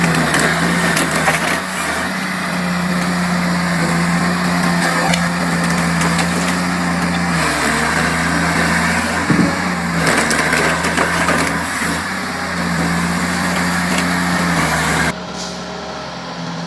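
A LogMax 6000 timber harvester runs loud and close, its engine droning steadily while hydraulics whine and the head chops and feeds logs with knocks and crunches, the roar dropping off abruptly near the end.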